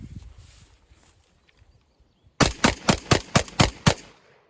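Shotgun loaded with 20 rounds of double aught buckshot fires seven loud, sharp blasts in quick, steady succession after a quiet pause, each shot ringing briefly before the next.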